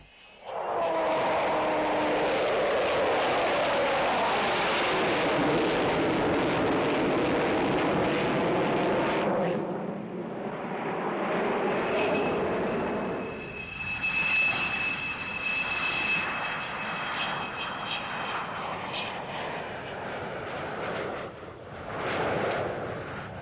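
An Avro Vulcan jet bomber flies past, a loud, sustained roar that swells and then thins out, followed by whining engine tones as it moves away, with no speech.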